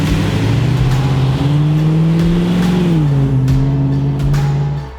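A custom Land Rover Defender 90 with a 6.2-litre V8 and six-speed automatic runs nearby, its deep, steady rumble climbing in pitch as it revs, then settling back down.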